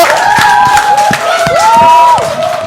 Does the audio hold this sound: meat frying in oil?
no